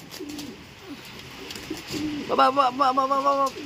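Rain-soaked racing pigeons at an old-bird derby loft coo close by in a run of rhythmic, throaty calls over the rain's hiss, after quieter scattered sounds.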